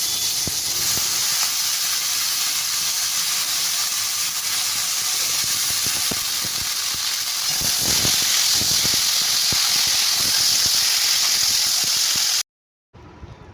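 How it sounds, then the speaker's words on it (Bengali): Boiled pumpkin greens go into hot oil with fried lentil dumplings, giving a loud, continuous sizzling hiss that runs steadily for about twelve seconds before stopping abruptly. "এবার সেদ্ধ করে রাখা শাকটা দিয়ে দেবো"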